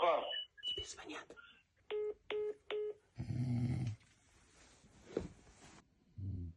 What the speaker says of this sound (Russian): Тебе звонят.